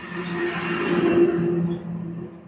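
A car engine in second gear hums as it accelerates steadily on the road, a smooth mid-pitched drone with a slight rise and gentle easing off near the end, close and continuous inside the cabin.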